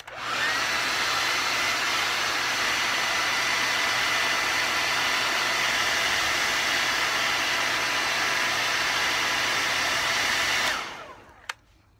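A handheld hair dryer blows a steady, close, loud airy whoosh for about eleven seconds before switching off, followed by a brief click, with no voices.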